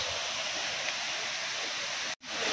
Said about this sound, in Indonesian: ini pertemuan dua air terjun. Wow, oh, ada dua air terjun